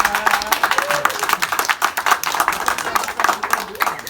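A gathered audience claps for a program coordinator at a community event, loud, close and sharp, with individual hand claps clearly separated in a fast, uneven rhythm and some voices underneath.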